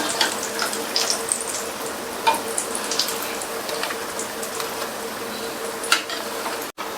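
Sweet potato bondas fry in oil over a medium flame, giving a steady, close sizzle with scattered small crackles and pops throughout.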